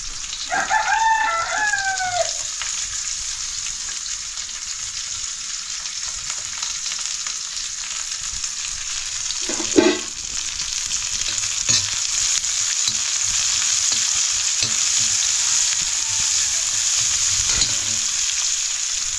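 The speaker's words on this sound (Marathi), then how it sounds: "छोटासा कांदा टाकलेला, कापून ठेवलेला छोटासा कांदा, तो आता टाकते" Chopped onion frying in a pan over a village wood-fired stove, a steady sizzle running throughout with a rooster crowing near the start and a few clinks of a utensil midway.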